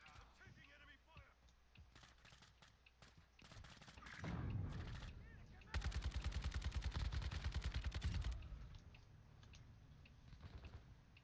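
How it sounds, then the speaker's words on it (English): Loud rapid volleys of automatic gunfire in a video game, with short scattered shots early and then a dense sustained burst of fire, up close and dominant. "Taking enemy fire."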